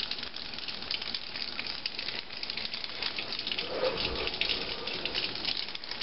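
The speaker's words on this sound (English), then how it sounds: "I cut on some water, and you don't want it really hot, but you don't really want it cold either." Tap water runs steadily into a sink, a constant close hiss and splash at room temperature that keeps going without a break.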